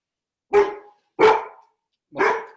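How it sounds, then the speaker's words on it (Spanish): A house dog barks three times in close succession, each a loud, sharp bark separated by silence, fairly near the microphone. "Puede ser que escuche a mi perro como lo están haciendo ahora, que justo se puso a ladrar cuando prendí el micrófono."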